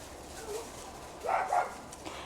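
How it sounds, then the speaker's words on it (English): Neighbor dogs bark outdoors in a spring garden: a faint early yip, then two louder barks close together, heard at moderate distance with no talking. "It's always a fight with the neighbor dogs"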